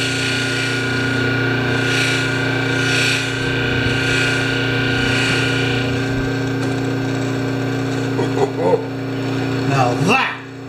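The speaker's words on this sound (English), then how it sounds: "we'll finish it on the big buffer" A large bench buffer runs steadily, polishing a chainsaw bar from a Pioneer Partner 500 chain saw, with a constant loud motor hum and whine that shifts slightly as the bar is pressed against the wheel near the end.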